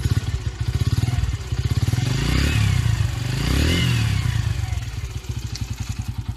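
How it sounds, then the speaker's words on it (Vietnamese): A Yamaha YB125SP motorcycle engine runs close by with a steady pulsing thump, rising briefly in a rev before settling back to a chugging idle. "bây giờ thì mình sẽ cho các bạn nghe thử cái tiếng máy của xe mình ha"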